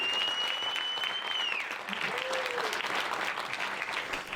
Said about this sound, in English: We can give her one more round of applause for 20 years of service with the Chamber.